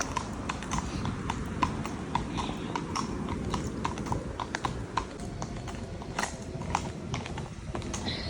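A quality horse being hacked out along a road, its hooves striking hard ground in a steady, even clip-clop rhythm, close and clear for the whole stretch with no talk.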